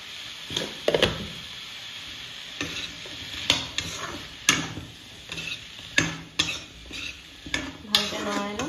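Chicken and onions frying without oil in a pan, stirred with a utensil that scrapes and knocks against the pan in irregular close bursts over a soft sizzle.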